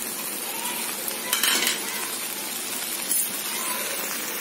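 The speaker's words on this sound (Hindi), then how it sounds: "भिंडी को हम अच्छे से मिक्स कर लिए" Okra fry being stirred in a hot pan with turmeric, salt and red chili powder, giving a continuous loud sizzle with a few scraping spoon strokes, close and with no talking.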